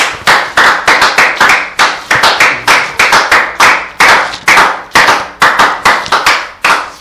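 A congregation at a church service claps hands together in a steady, loud, rhythmic beat, with sharp repeated bursts and no talking.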